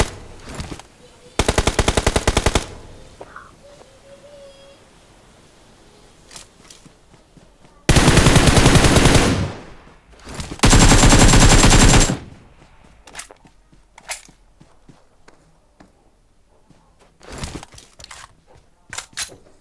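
Loud bursts of automatic machine gun fire in a mobile shooter game, three long sustained volleys and a few shorter ones, with quieter game sounds and faint talk between them.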